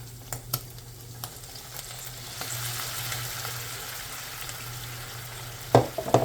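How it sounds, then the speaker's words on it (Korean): Tuna pasta stir-frying in a pan gives a steady close sizzle with scraping stir strokes, and a few sharper clacks come near the end. "조금만 더 볶을까?"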